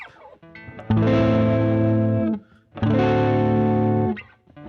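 Two long, sustained electric guitar chords, played with the tone knob turned all the way up, ring out with a bright, slightly distorted tone, each fading before a brief pause.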